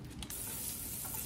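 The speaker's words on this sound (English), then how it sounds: "You want to make sure you hear that sizzle." Soft, steady sizzling hiss of butter in a hot pan, close by and continuous.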